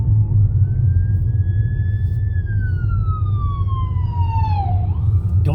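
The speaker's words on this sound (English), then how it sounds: "It's an ambulance." A wailing ambulance siren rises and falls in long sweeps over heavy low traffic rumble, loud and fairly close.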